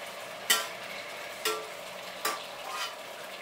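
Apple pieces stirred in a pan of sugar and butter syrup: three distinct scraping strokes over a steady low sizzle, close by and with no voices.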